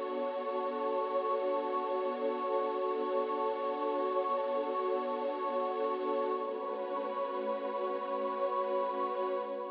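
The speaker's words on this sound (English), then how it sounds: "So I use like a choir pad" Synth choir pad with a string voice from Expand in FL Studio, heavy with effects, holding one steady, sustained wash of sound for the whole stretch, alone with no talking.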